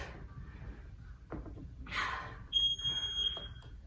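A workout timer alarm gives off a steady high-pitched beep for about a second, sounding after some rustling and movement on a stability ball.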